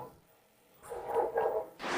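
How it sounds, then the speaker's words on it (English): A little dog barks at a junkyard from some distance, a few short yaps in a cluster, moderately loud against quiet outdoor background. "Ah, there's a dog, a little dog over there."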